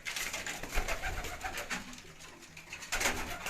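Champion racing pigeon cooing up close, soft throaty coos repeating in low rolling phrases, with quiet background rustle and no talk.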